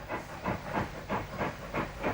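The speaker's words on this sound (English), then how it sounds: "An 8F280 approaches Anglesey siding signal box with another goods train." An 8F steam locomotive hauling a goods train near Anglesey siding signal box, its exhaust beats chuffing in a steady rhythm of about three per second, close and strong.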